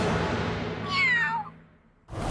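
A tomcat in a Boss Baby scene lets out one loud, falling meow close by, over a steady background rumble that cuts out briefly afterward.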